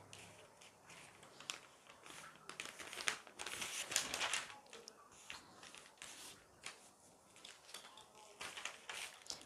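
A paper sewing pattern for a sleeveless shirt with an attached collar is creased and folded along a line, giving soft crinkling and rustling in uneven bursts, fairly faint and close, with no talk over it.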